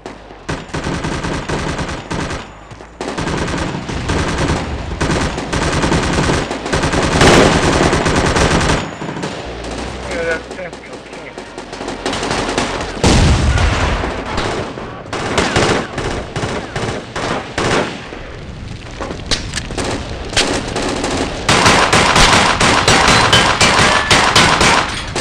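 Loud, sustained machine gun fire from the military shooter game Project Reality v0.85, with dense rattling bursts and overlapping gunshots running almost continuously, swelling and easing in intensity throughout.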